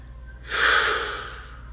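A single slow, deliberate breath, an airy rush that swells and fades over about a second, close and alone against a faint low hum.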